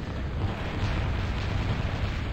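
Artillery from Supreme Commander: Escalation lays down sprayed indirect fire, a dense, steady rumble of overlapping blasts that fills the whole moment with low, continuous battle noise.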